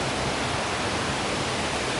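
Very loud waterfalls at Kawazu Seven Waterfalls in Japan roar as a steady, dense broadband rush of falling water, close and unbroken throughout with no voices.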